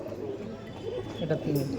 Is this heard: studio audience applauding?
no